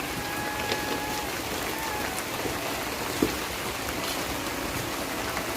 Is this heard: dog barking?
no